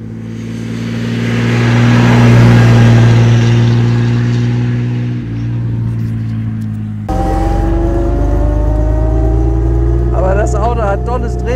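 A 1930 Bentley 6 1/2 Litre Speed Six with its 6.5-litre engine pulls hard, a loud, steady low drone that swells and holds, eases briefly, then resumes with rising overtones, close up and continuous.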